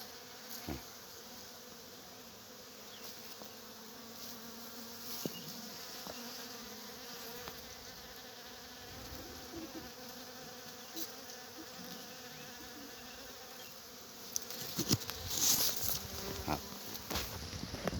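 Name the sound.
bees buzzing around longan flowers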